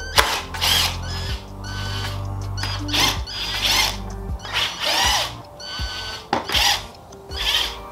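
Cordless drill driver backing out the 3mm hex bit bolts that hold the windscreen to the fairing of a Honda CBR600 F4i motorcycle, whirring in repeated short bursts with brief pauses between them, close and fairly loud.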